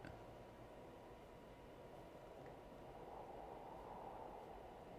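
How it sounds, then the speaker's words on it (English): A low, steady rumble of a train rolling along in the video game Kholat, constant and muffled, with no voices. "there's sounds of a train moving, but no train actually moving."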